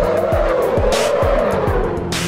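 Engine drone in the Assetto Corsa racing game as a car is thrown sideways with the handbrake, loud and close, with tires squealing in long sweeping bursts across the drift.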